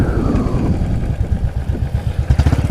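Royal Enfield Classic 500 Desert Storm single-cylinder motorcycle engine, a close, thumping low pulse with mechanical clatter that quickens and rises unevenly, heard alone without talk.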